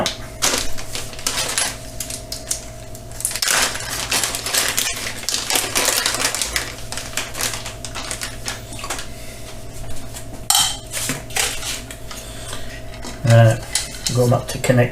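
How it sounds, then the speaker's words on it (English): Metal Allen keys clink and rattle against one another and a hard surface during assembly of a Genmitsu LC40 10W laser engraver, a steady run of close, sharp tinny clicks with a low hum beneath. "Get the Allen keys out."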